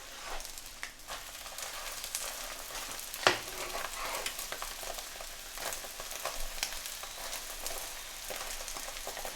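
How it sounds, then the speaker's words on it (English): An omelette for an Aloo Tikki burger sizzles in a pan at a Lahore street food stall, a steady crackling fry with scattered pops and one sharp clink, fairly quiet and with no talk. "It's nice if the omelette for this Aloo Tikki burger is nicely fried."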